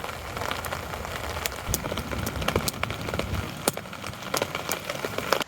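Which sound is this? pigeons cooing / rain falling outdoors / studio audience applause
rain falling outdoors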